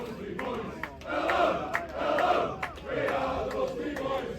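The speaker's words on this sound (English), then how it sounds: "the only people making the noise is the FC United Manchester fans" FC United of Manchester supporters chanting at a football match against Cleethorpes, a massed crowd singing in rising and falling waves with sharp claps or shouts, heard from among the fans.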